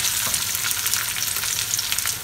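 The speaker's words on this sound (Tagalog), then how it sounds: "Ayun po yung pinakamaganda ng paggisa po sa sibuyas." Sliced onion sautéing in a pan as the base for Filipino squid adobo, a steady crackling sizzle with light stirring, close and continuous with no talk.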